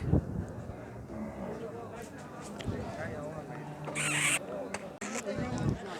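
Cattle at a busy cattle market for bulls, with a low moo among shuffling hooves and crowd murmur, people talking nearby and a brief hiss of noise near the end.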